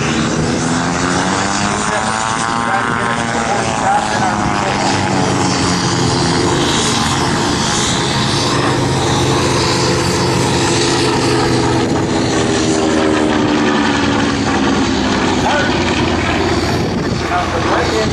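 A WWII warbird propeller plane at the Fort Worth Alliance airshow roars overhead, its loud engine drone rising and falling in pitch as it passes, with an announcer talking continuously over it.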